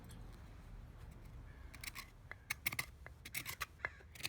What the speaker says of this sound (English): I'm going to work on this a little more with another scraper I have